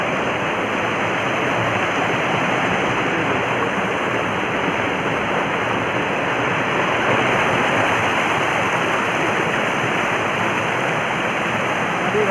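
A river in Tikamgarh, running strong after the rainy season, rushes over rocks with a loud, steady broadband roar that stays constant and unbroken from start to finish.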